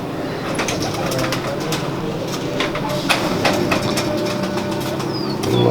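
Pet pigeons in a loft, including a female dove, give soft intermittent coos and brief wing flaps under a steady background hum, with no clear talk.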